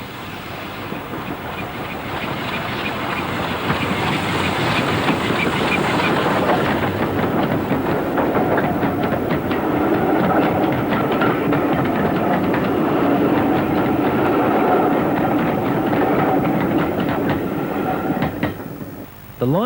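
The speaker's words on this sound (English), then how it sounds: "4277 hauls a train past Farworth cottages." Steam locomotive 4277 hauls a train past cottages on the North Yorkshire Moors Railway, a loud, continuous rumble with rhythmic wheel clatter that builds, holds and then fades near the end.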